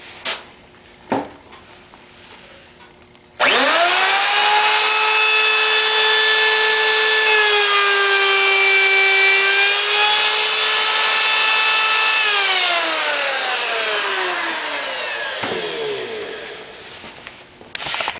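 A wood router with a rounding bit cuts along the edge of a pine board for wall shelves. It starts abruptly with a loud, steady high whine that holds for about nine seconds, then winds down slowly. No one speaks.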